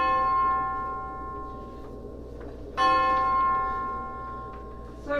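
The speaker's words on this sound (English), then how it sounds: "13 bells." A deep bell tolls at the witching hour, one loud strike ringing out and decaying, then a second strike, each leaving a long humming resonance over a faint low background.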